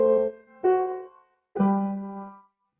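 Playback of a Palestrina-style cadence with a 7-6 suspension, heard as three sustained, soft choral-like chords, the last held longest before fading to silence, with no talking.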